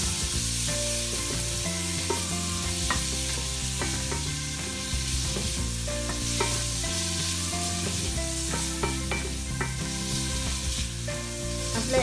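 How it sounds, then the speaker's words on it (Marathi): Prawns frying in hot oil with turmeric for a prawn masala produce a steady, continuous sizzle that runs the whole time beneath prominent background music. "आपल्या आता या फ्राय होत आहेत"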